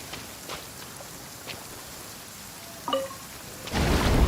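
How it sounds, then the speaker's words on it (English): Soft steady rain patter in the video game Genshin Impact, with a few faint drops, a brief knock, then a louder rush of rain or wind swelling at the end. "It's raining again."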